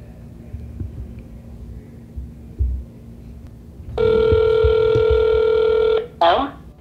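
A telephone line rings out while calling the RTS transit service in Rochester, a steady electronic ring tone lasting about two seconds after a quiet stretch of low background noise, followed by a short burst of sound.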